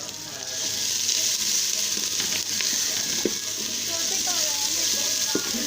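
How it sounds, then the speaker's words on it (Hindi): Onions fry in a pan for a Pakistani mutton salan curry, giving a steady, close sizzle throughout with a few faint clinks and stirring sounds. "इसको हम अच्छी तरह से फ्राई करेंगे, लेकिन हमने इसको ज़्यादा फ्राई नहीं करना"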